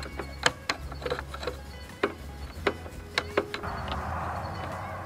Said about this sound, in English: So the first thing to do is to remove this screw right here. This is a Phillips head screw,